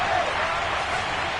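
A stadium crowd roars steadily in an American football video game, a dense wash of cheering and applause that holds loud and even without a break.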